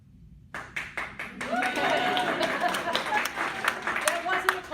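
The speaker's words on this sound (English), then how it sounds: "That wasn't a call for applause, but thank you." An audience breaks into applause at a talk on a virtual assistant business, starting with a few scattered claps and swelling into steady, moderately loud clapping that lasts several seconds.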